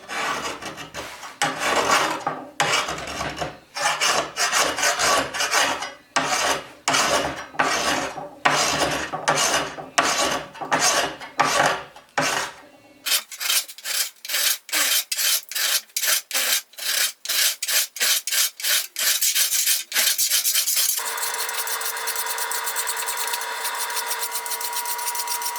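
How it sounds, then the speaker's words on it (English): A hand file rasps back and forth along the bevel of a Japanese sword blade, loud rhythmic strokes in close succession, the pace quickening toward the end with a steady harsh grinding tail. "just filing this bevel in all the way up and down the blade"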